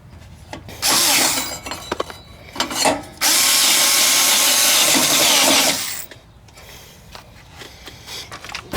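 A power tool drives a bolt on a trailer's 7-way plug cover, giving two loud whirring bursts, a short one and then a longer sustained run of about three seconds, with handling clicks before and after.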